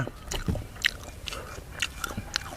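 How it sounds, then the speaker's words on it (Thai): Someone bites into fried crab and chews, with crisp crunches and wet chewing clicks repeating close to the mic at an uneven pace, with no talk over them. "กินทอดปู"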